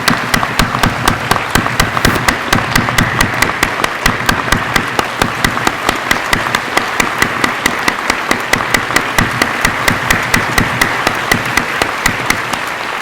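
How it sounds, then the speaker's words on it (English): A crowd applauds steadily at a police promotion ceremony, dense clapping holding at an even level throughout, loud and close, with no voices over it. "join me and give them a round of applause"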